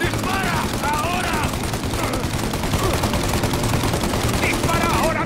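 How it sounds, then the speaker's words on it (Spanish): Gunfire in the Mafia Definitive Edition video game crackles as dense, rapid bursts of automatic fire, loud and continuous throughout, with shouted voices over the shooting. "¡Dispara ahora mientras podemos!"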